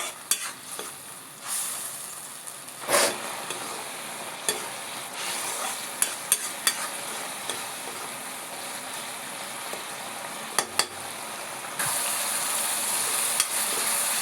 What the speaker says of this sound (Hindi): अब थोड़ा सा टमाटर और जो मही है ओला हमन पका लेबो संगवारी हो अच्छे से।